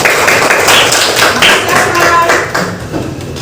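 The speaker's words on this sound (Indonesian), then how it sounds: "tepuk tangan dulu untuk semua" Classroom applause from students clapping together for everyone, a loud, quick burst of many hands tapping that fades toward the end, with no talking over it.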